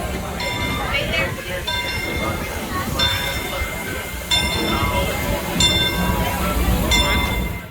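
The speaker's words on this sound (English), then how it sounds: "down these tracks, in just a couple of seconds, will come Walt Disney himself, barreling in a railroad train built to 5/8 miniature size" A 5/8-scale miniature railroad train at Disneyland arrives along the tracks with steady rolling rumble and metallic clinks and squeals from the wheels. People talk throughout over the noise.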